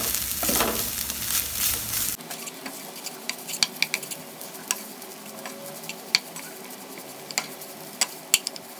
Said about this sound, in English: Now you're going to add in the coconut along with the turmeric powder and roast till it